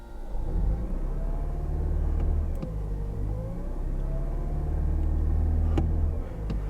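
A Toyota Corolla Hatchback sits parked while its engine is revved, a close, steady mid-frequency rumble that swells and eases with the throttle, with no one speaking.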